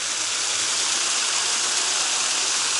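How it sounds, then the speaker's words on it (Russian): A small man-made waterfall fed by a mountain stream spills down concrete slabs beside a road, making a continuous loud rushing gush of water up close with no voices. "А здесь такой небольшой рукотворный водопадик. Откуда-то с гор бежит ручей."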